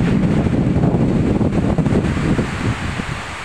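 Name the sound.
wind blowing outdoors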